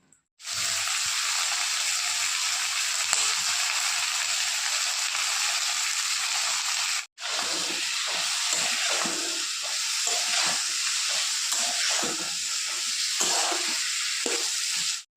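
Potato and pointed gourd curry cooking in a wok, giving a steady, loud sizzling hiss that runs on without pause, with a brief break midway and stirring noises in the second half.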